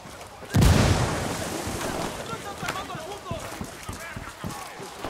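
Gunfire in the video game Ghost Recon Wildlands erupts as a loud burst, then continues as a steady roar of shots and battle noise, with voices calling out over the fighting.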